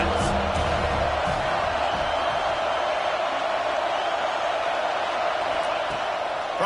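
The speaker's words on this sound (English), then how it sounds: "Big 3rd down as the crowd gets behind this defense" Oklahoma football stadium crowd roaring behind the defense on a big third down, a dense, steady wall of distant cheering that holds at an even level throughout.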